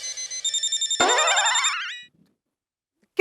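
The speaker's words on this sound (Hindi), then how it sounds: "किसका फोन है?" A telephone ringtone in a Taarak Mehta Ka Ooltah Chashmah comedy scene: a short pulsing electronic ring, then a brighter warbling melodic burst that cuts off into silence, close and clear with no talk.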